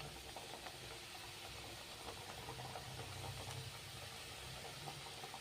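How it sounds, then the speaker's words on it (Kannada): Dough for kaara snacks fries in hot oil, a faint, even sizzling hiss with small crackles and no voices. "ಈ ಲೆವೆಲಿಗೆ ಎಣ್ಣೆ ಕಾಯಿಸ್ಕೊಂಡು ಫ್ರೈ ಮಾಡ್ಕೋಬೇಕು"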